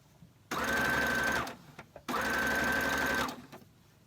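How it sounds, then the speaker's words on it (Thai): Sewing machine stitching a dress straight without basting, in two loud sustained runs of roughly a second each, separated by a short pause, close and clear with no talking. "จับเย็บเลยเราไม่เนาแล้วค่ะ"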